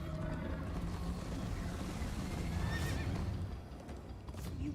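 Horse in the Minecraft Story Mode game neighing with a rising whinny partway through, over steady galloping clip-clop hoofbeats and dense chase-scene noise throughout.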